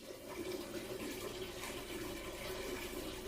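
Water runs steadily from an old chimney pipe being demolished in a wooden house, a continuous close splashing rush that keeps up without a break or any voices.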